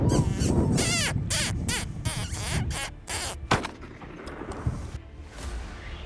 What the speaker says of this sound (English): gunshots echoed across the deserted fields